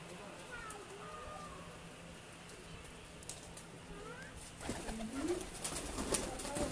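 Pigeons coo softly in a breeding loft, low murmuring calls faint under a quiet background hum, with brief ticking and a few louder calls near the end.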